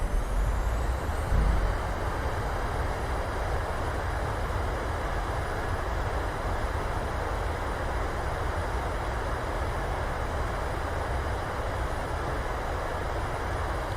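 Airliner thrust reversers roaring during a landing rollout at Phoenix Sky Harbor in Microsoft Flight Simulator: a loud, steady, broadband rush of engine noise that holds evenly throughout with no voices.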